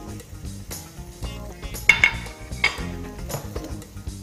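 A spoon stirs chicken and shredded cabbage in a metal pan, with repeated clinks and scrapes of utensil on the pan, a few sharper knocks standing out, and a faint sizzle underneath.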